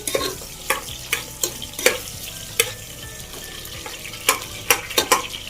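Onion fries in a pan and is stirred for a wedding-style chicken dry fry, with repeated scraping strokes and clacks of a spoon against the pan over a constant sizzle.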